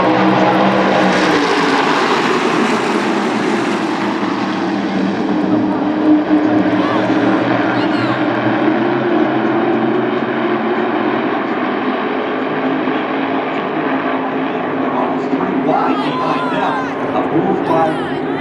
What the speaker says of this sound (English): Powering up through the gears, looking for a clean start.